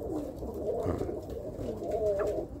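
Birmingham Roller pigeons coo in a loft, soft repeated throaty calls close by and steady, with no talking over them.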